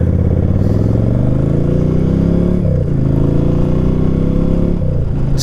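Motorcycle engine idling after a carburetor adjustment, a loud, close, steady throb with slight dips and a faint clatter, no talk.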